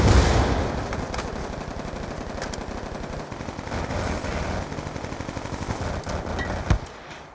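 Rapid automatic gunfire in Call of Duty: Black Ops 2, a continuous rattling burst of shots that runs nearly the whole time, loud and close, with a sharper crack near the end.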